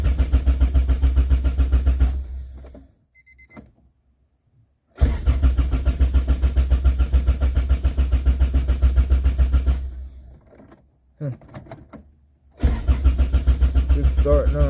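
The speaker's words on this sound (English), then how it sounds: "Alright, let's try to start it." A car with starter wiring problems cranks in several loud, rhythmic bursts of the starter motor chugging, separated by pauses, without the engine catching. Voices are heard in the gaps.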